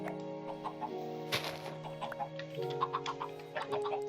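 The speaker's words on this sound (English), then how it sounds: "Inhumane chicken farm." Chickens on a video game chicken farm cluck repeatedly in a busy overlapping chorus, with ticking game sounds and steady background music underneath at moderate volume.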